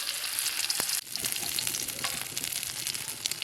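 Panch phoron and ground cumin frying in hot oil, a close, bright continuous sizzle with scattered crackles and pops and a brief dip partway through, with no talking.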